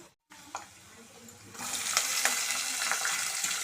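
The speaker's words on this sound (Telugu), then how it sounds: "అండ్ పల్లీలు వేసుకొని వేయించుకున్నాం. చూడండి, ఇట్లా వేగుతున్నాయి." Peanuts, lentils and onions frying in oil in a pan for upma, a soft sizzle that swells after a short pause, with faint stirring clinks at close range.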